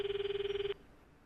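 A phone calling a character in the game Steins;Gate 0 gives a short, clear electronic ring tone, a single steady pulsing trill that cuts off abruptly after under a second, followed by faint room hiss.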